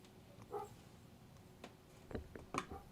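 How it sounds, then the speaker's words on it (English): Neighboring dogs bark from a distance in a few short, scattered bursts, faint against a quiet background. "Who's barking?"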